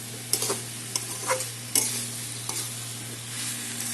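Fried brown and white potatoes being stirred in a pan for Bengali dum aloo: a few scraping strokes and clinks over a steady sizzle, close and fairly quiet, with no voices.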